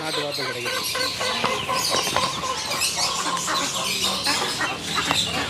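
Country chickens cluck and squawk together at a busy bird market in Coimbatore, a loud, crowded, overlapping chorus of calls that runs without pause.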